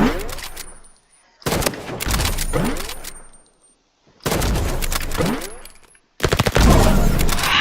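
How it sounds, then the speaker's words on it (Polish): Bursts of Roblox gunfire in several separate volleys, loud and close, with brief silences between them and a rapid final burst. "Ostatnie pięć strzałów."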